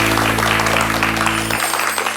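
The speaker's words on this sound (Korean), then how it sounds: "강의 박수로 청해 듣겠습니다." Steady audience applause welcomes a lecturer onto a televised lecture stage, a continuous wash of clapping over a low electrical hum.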